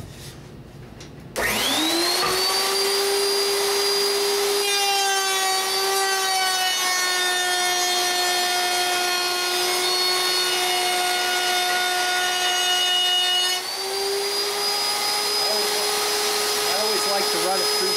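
A router table cuts rabbets into a wooden beehive body, a loud sustained high whine that runs steadily and shifts pitch slightly as the wood feeds through.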